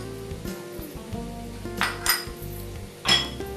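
A spoon mixes spice paste in a metal cooking pot, giving a few close clinks and scrapes against the pot, with two louder knocks near the middle and the end.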